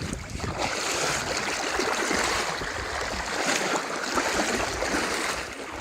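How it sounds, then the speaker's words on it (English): Rushing river water of the Escalante River in a canyon, a steady broad wash of flowing current heard close and fairly loud throughout, with no talk over it. "if I can figure out how to cross this river"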